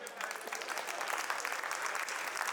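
Sustained audience clapping rolls on without pause, a dense, even wash of applause at moderate loudness throughout.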